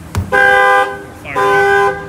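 The factory alarm on a Dodge Challenger sounds two loud, steady car-horn blasts close by, each about half a second long with a short gap between, preceded by a sharp knock.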